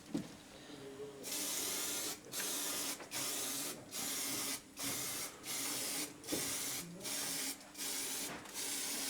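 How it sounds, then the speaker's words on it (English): Spray mount adhesive hisses from an aerosol can in a series of loud, close bursts, about nine in a row separated by short pauses. "we're just going to spray the spray mount on it now, and then put it down onto the silver"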